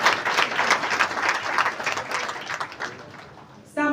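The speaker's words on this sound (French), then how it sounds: "Je vous demande de l'applaudir." An audience at a Ligue Ivoirienne des Secrétaires celebration claps in a moderate, steady round of applause for over three seconds, fading slightly before a voice cuts in at the end.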